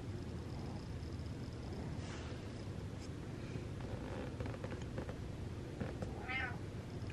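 A cat gives one short, faint meow from a little distance against a steady hiss of background noise, with no talking heard.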